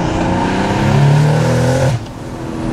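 BMW M140i with a big OP1000 turbo kit spooling up under hard acceleration, a loud close engine note with rising whine that drops off abruptly near the end.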